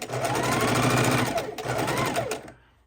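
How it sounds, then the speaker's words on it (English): A sewing machine whirs steadily up close, stitching scrap fabric for a log cabin quilt block, with a brief dip in the middle before it stops. "we're sewing it down"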